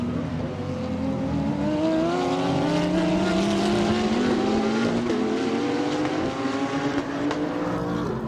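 Porsche and Audi GT3 race cars bump over the curbs at a chicane in China GT Championship racing, engines rising steadily in pitch as they accelerate away, loud and continuous throughout.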